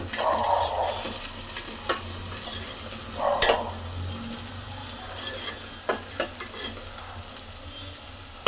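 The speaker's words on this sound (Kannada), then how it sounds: "ಜಜ್ಜಿರುವಂಥ ಒಂದು ಬೆಳ್ಳುಳ್ಳಿ ಮೆಣಸಿನ್ಕಾಯಿ ಹಾಕ್ಬಿಟ್ಟು ಸ್ವಲ್ಪ ಫ್ರೈ ಮಾಡ್ಕೊತೀನಿ" Green chillies and crushed garlic frying in a hot pan, a loud continuous sizzle with intermittent spatula scrapes and clinks against the metal.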